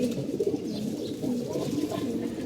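Low, soft pigeon cooing rolls on steadily against a muffled background, several birds murmuring close by.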